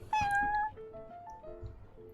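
Prince, a cat in a Yu-Gi-Oh video game, gives one loud, clear, drawn-out meow followed by softer, lower chirping mews, all close and alone with no talk.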